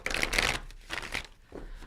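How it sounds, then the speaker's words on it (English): Tarot cards shuffled by hand in a quick riffle, two bursts of soft crisp flutter close by in a quiet room. "So let's take a moment to shuffle these cards."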